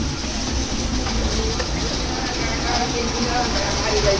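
Steady loud rumble of a moving train near Joydebpur and Ghorashal, Bangladesh, continuous rolling noise throughout with no breaks, heard from inside.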